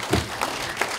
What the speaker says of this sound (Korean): 박수로 우리 같이.